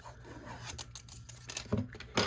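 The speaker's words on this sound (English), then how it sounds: "I'm going to curl it first because it'll make it a lot easier" Paper strip being curled for tote packaging, heard as close, soft rubbing and rasping scrapes in short strokes, quiet and without talk.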